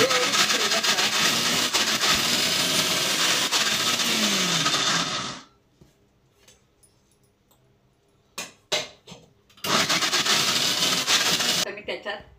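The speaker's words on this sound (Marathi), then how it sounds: "मिक्सर हळूहळू फिरवत राहा" A mixer grinder runs at low speed, churning cream with turmeric and salt into butter; the motor whirs loudly, stops, a few handling knocks follow, then it whirs again briefly.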